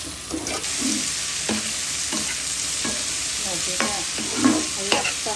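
Green chilies with onion and tomato frying in a pan, a continuous sizzle broken by repeated scraping and stirring strokes of a spoon, close and fairly loud with no talking.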